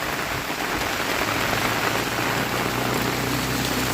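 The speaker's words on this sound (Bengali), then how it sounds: "দেখুন আমার ছাতা থেকে কিভাবে জল পড়ছে। অর্থাৎ খুব বৃষ্টি হচ্ছে এখন।" Heavy monsoon rain pours down and drips from an umbrella beside a swelling river, a dense, steady hiss of drops hitting the surface close by with no letup.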